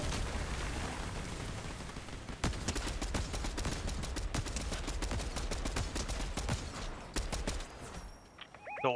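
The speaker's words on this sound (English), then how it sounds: "I was hearing those gunshots." Rapid video game gunfire crackles in dense bursts, with booming impacts and rumbling explosions mixed in, continuous battle noise that trails off into quiet at the end.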